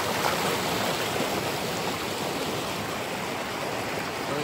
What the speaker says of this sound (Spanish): Está corriendo y aquí sale más arriba. Pero aquí es toda esa agua que...